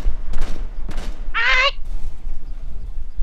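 In the Rainbow Six Siege video game, two short bursts of gunfire ring out in quick succession, followed by a brief high-pitched chirping sound against a low rumble.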